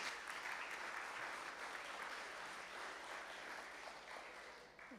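Sustained applause fills a lecture hall as an audience claps for the speakers at a public discussion event, steady and dense throughout before tapering slightly near the end.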